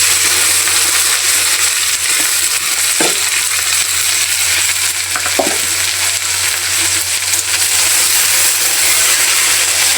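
Okra frying in hot oil seasoned with cumin and bay leaf for a Bangladeshi okra bhaji, giving a steady close sizzle throughout with two brief clinks partway.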